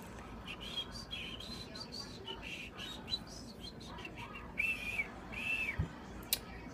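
Someone whistles without using hands, producing a few short, thin tonal whistles over a noisy background, the clearest coming in two bursts toward the end.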